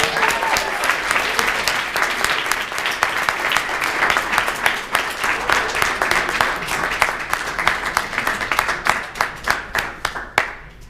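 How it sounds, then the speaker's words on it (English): A wedding audience applauds the newly married couple with loud, dense, sustained clapping close by. The clapping continues steadily for several seconds and thins into scattered claps near the end. "Let's give him a applause."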